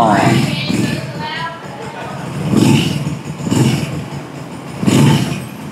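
Win 140cc Detech motorcycle with its clutch pulled in, the engine cranking to life and then revving up and down in several loud surges at close range.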